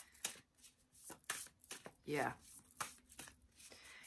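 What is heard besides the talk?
shuffling tarot cards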